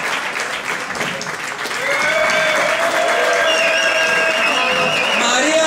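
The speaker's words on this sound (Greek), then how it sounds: "έξτρα χειροκρότημα." Audience applause at a stand-up comedy show, a dense wash of clapping that swells after the first two seconds and stays loud throughout, with whistles or cheering tones over it and someone speaking beneath.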